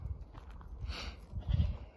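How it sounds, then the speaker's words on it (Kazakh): A young goat kid, offspring of a hornless nanny goat, bleats at close range in a short burst, with broadband rustling and handling noise around it. "Мынау тоқал ешкінің лағы."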